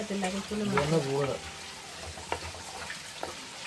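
Small shallots sauté with salt in a pan for a country-style chicken curry. A voice talks briefly at the start, then a soft, steady frying hiss continues with a few light clinks.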